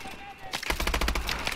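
Gunfire in a Call of Duty: Advanced Warfare firefight, a rapid volley of sharp shots that begins abruptly after a quiet moment and continues as dense, loud cracking to the end.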